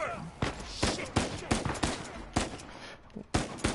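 Video game gunfire in Uncharted 4, including sniper shots, cracks out in a rapid irregular string of sharp loud bursts with no speech over it.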